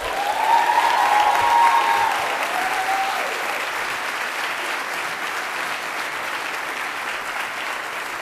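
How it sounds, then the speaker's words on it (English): A crowd applauds at a 2019 high school commencement ceremony, a broad steady wash of clapping that starts loud with a brief tonal sound early on and continues evenly throughout. "Please let's give him another round of applause."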